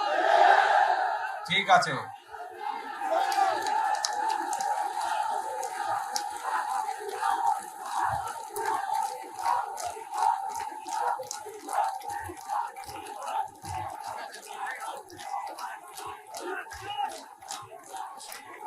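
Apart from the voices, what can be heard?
political rally crowd chanting and shouting slogans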